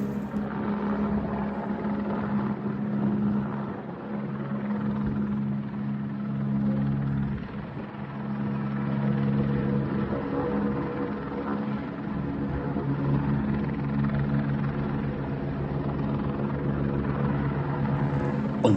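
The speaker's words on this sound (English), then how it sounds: "an Airbus H125 helicopter, operated by Skyhook Helicopters from Fife Airport in Scotland, came to airlift the stranded Cessna" An Airbus H125 helicopter's steady, droning rotor roar holds throughout, loud and constant with a low thrumming hum, over Lytham marsh.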